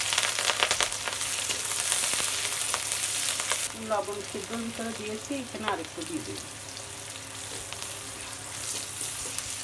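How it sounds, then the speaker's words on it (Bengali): Onion, garlic and chili sizzle in hot oil in a kadai while greens are being cooked. There is a steady close crackling fry, with someone talking briefly over it midway. "এবার আমি পেঁয়াজ, রসুন আর মরিচ দিয়ে দেবো।"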